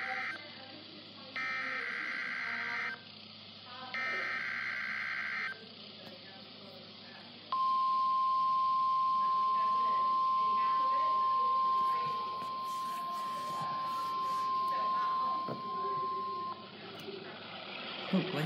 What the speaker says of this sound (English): You just heard a test of the National Weather Service radio warning alarm feature.